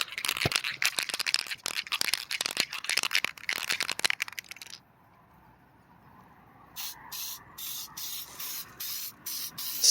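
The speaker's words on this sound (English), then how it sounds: "spray on both sides of the gasket, avoid overspray" An aerosol spray paint can hisses in a long continuous spray onto both sides of a tractor gasket, stops, then gives several short rhythmic bursts after a pause.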